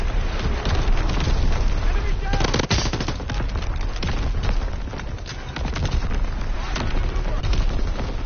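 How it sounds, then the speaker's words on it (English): Continuous, loud enemy artillery and gunfire rage through a Call of Duty WW2 battle, with rapid bursts and booms packed densely across the whole stretch and a sharp blast standing out partway through. "Incoming enemy artillery."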